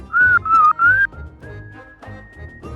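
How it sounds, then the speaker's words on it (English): A whistled melody from the video game The Great Ace Attorney: three short, bright, wavering phrases followed by two long sustained notes, clear and close over soft background music. "I always think of X-Files when I hear that, like, whistle."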